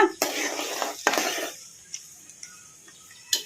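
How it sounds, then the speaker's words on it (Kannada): Chana dal and urad dal fry with mustard and cumin seeds in a pan over a medium flame, giving two short bursts of loud sizzling followed by quieter scattered ticks and light clinks of the spoon. "ಸ್ವಲ್ಪ ಕಡಲೆಬೇಳೆ ಉದ್ದಿನಬೇಳೆ ಲೈಟ್ ಬ್ರೌನ್ ಕಲರ್ ಬರೋವರೆಗೂ ಫ್ರೈ ಮಾಡ್ಕೊಂಬಿಡೋಣ"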